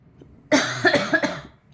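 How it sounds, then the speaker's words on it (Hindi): A short burst of three or four harsh coughs, close and fairly loud, with quiet before and after. "मेरे को खांसी हो रही है बहुत तेज़"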